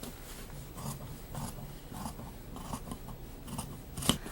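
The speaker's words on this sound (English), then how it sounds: "And you're going to trim off the sides." Scissors trim the edges of pleated fabric for a box pleat skirt, giving a soft, steady rhythm of snips up close, faint and with no talking.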